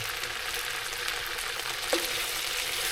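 Potatoes fry in oil in a pan over a wood fire, giving a steady, hissing sizzle with faint crackles. One brief tonal clink or pop comes midway.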